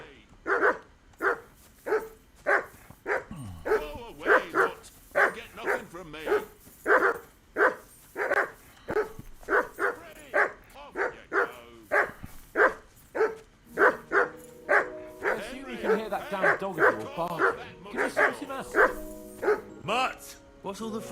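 A dog in Kingdom Come Deliverance 2 barks repeatedly in a steady rhythm, loud and close, with occasional whimpers and voices talking underneath.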